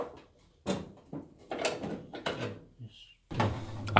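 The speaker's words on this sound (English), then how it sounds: "Then unscrew the knobs and caps on each side." Parts of a gas fire heater being dismantled, with knobs and caps unscrewed and lifted off, heard as close, intermittent metallic clunks, scrapes and rattles separated by brief pauses.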